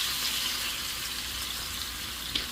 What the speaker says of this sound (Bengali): এবার ভেজে নেব ভালো করে।